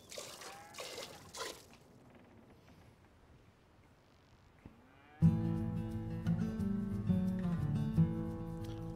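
A cow lows a few times in Red Dead Redemption 2 during a milking task, faint and intermittent over a quiet ambient background before music swells in.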